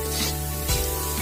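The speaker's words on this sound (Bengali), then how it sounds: "চালটার থেকে যখন চটচট শব্দ আসে, তখন মনে করবেন চালটা ভাজা হয়ে গেছে" Washed rice and lentils fry in a pan with spices and garam masala, giving a dense, steady sizzle and crackle close up with soft stirring scrapes and no talking.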